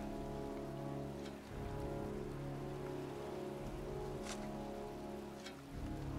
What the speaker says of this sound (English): I like how it's raining as well.